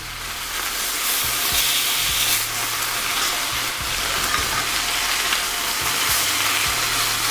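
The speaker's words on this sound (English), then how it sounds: "so you get a proper sear on that chicken" Peri peri chicken sears in a hot pan with a steady, dense sizzle and crackle, loud and continuous throughout, with occasional low knocks beneath.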